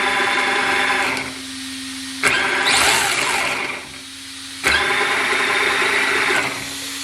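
Tamiya Plasma Edge II RC car with a brushless motor, wheels spinning freely on the bench: a steady high electric whine in repeated bursts, revving up, dropping away and surging again, close and loud with no talking.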